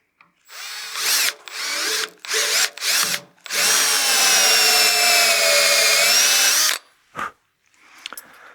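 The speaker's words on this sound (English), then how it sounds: "I'm gonna barrel trim that in just a little bit further" A drill spins a barrel trimmer against a pen blank to square its end. The tool makes a loud, close whine in several short bursts, then one long sustained run of grinding and cutting, and finally a few brief blips.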